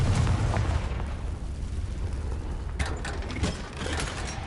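Sustained rumbling blast of a Confringo fire spell in Hogwarts Legacy, a loud low boom rolling off into crackling debris, followed by a few smaller bursts and pops.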